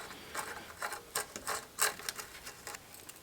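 A tool ratchets as bolts are tightened on a bicycle's BB90 bottom bracket, giving a quick run of close, uneven clicks and soft scrapes at modest volume.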